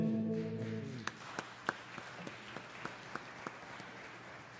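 A few people in a church congregation clap slowly and sparsely after a Sunday Mass choir performance, faint, evenly spaced single claps following a brief sung or spoken tone at the start.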